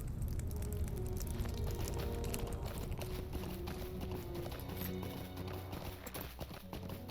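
Horse hooves clip-clop steadily in the video game Lord of the Rings Online, a continuous quiet trotting rhythm under soft ambient game sound, with no talking.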